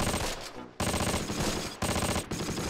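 Two deployable German MG42 machine guns firing in the wartime strategy game Close Combat, loud rapid bursts with short pauses between them, a harsh rattling roar close by.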